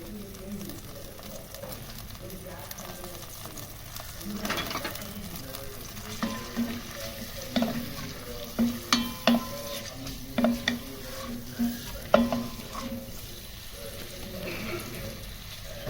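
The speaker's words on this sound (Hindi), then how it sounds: "प्याज को हमने गोल्डन ब्राउन करना है" Onions frying in about half a cup of oil for an eggplant and potato curry: a continuous sizzle with repeated rhythmic scrapes of stirring that grow busier midway, while a person talks over it.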